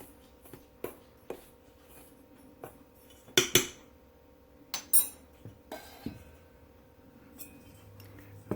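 Dry cornbread ingredients with baking powder being mixed in a bowl for a skillet blueberry cornbread, with intermittent clinks and scrapes of a utensil against the bowl and a few sharper taps, close and fairly quiet.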